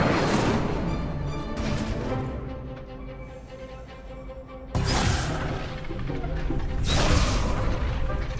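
An Incendio fire spell cast in Hogwarts Legacy: a sudden whooshing burst of flame that roars loudly and then trails off, repeated a few times with a low rumbling body and some tonal ringing.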